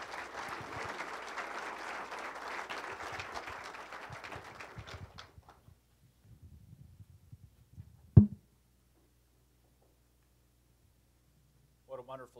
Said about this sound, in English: please join me one more time with a round of applause for all the award recipients